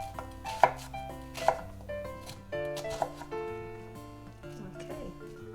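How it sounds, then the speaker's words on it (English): Large mushrooms are sliced with a knife on a cutting board, giving several distinct close chops and softer cutting taps over a faint background hum, with no voices. "now we're gonna be cutting the beautiful mushroom that I bought"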